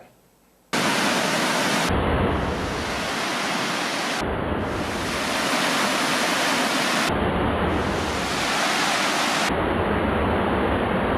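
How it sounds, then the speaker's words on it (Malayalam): The Parakuzhi waterfall pours through cardamom forest in the Idukki hills of Kerala with a steady, loud, dense roar that starts after a moment of quiet and continues unbroken, with no voices. "മനോഹാരിതയിൽ ചാലിച്ചൊഴുകുന്ന ഒരു വെള്ളച്ചാട്ടം"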